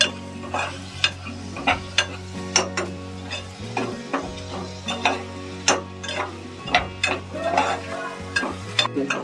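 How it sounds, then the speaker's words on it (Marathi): Potatoes fry in a pan while a spoon stirs them, giving repeated scraping clinks in an irregular rhythm over a steady low sizzle, close and distinct with no talking. "आता बटाटे आपण भरवून घेऊया चांगली."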